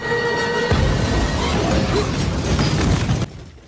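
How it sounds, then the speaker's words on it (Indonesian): A compressor in a film scene leaks and then explodes: a loud, dense burst of blast and shattering debris that rumbles on for a few seconds before cutting off abruptly. "Namun, kompresor itu pun bocor dan meledak."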